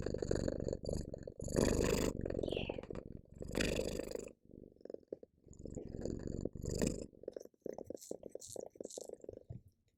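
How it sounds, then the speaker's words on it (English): A cat purring loudly on someone's lap, held right up to the mic, gives a close rumbling purr in uneven bursts with short pauses and some faint clicks between them. "she is purring so loudly right now"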